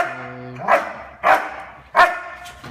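A young male German Shepherd protection dog barks on a bay command during bite-work training, three loud, deep barks spaced about half a second apart over a fading low tone, with no talk.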